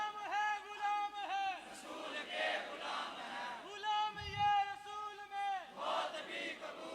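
A crowd at a religious gathering shouts slogans in unison, a few rhythmic chanted calls rising and falling, loud and reverberant, with voices blending into a massed roar.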